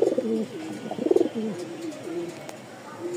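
Pakistani European toy Lahori pigeons, a male and a female in a breeder's loft, coo in repeated low throaty rolling calls, close and fairly clear, with faint background noise.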